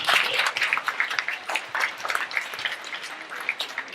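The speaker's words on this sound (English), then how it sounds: "let's give one more round of applause for the absolutely amazing people who put these projects together in 2 weeks" Dense, continuous applause fills the room as an audience claps for projects built by a coding bootcamp batch in Shanghai, steady and fairly loud with no voices over it.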